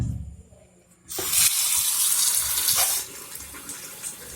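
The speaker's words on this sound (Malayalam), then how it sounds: "ഇത്തിരി കൂടി വെള്ളം നിറച്ചിട്ട് നമുക്കിത് പൊതിരാൻ കൊണ്ടുവരണം" Water from a tap rushes into a container for roughly two seconds, loud and close, then drops to a softer trickle; the container is being filled before cooking kuzhimanthi.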